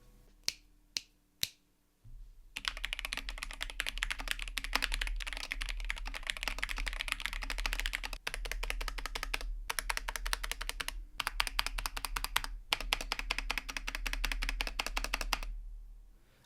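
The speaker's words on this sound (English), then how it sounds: "Let's go for a typing test." A few sharp snaps, then steady, fast typing on a DrunkDeer A75 mechanical keyboard with PBT keycaps, dense clacking keystrokes, close and fairly loud, with brief pauses.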